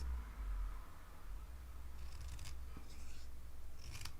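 Scissors snip through card while a Christmas card is trimmed, with a few short, close cutting strokes and crisp snips in the second half over a quiet, slightly rumbling room.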